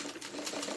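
A sewing machine stitches fabric in a rapid, steady mechanical patter, close and fairly quiet, for under a second with no talk over it.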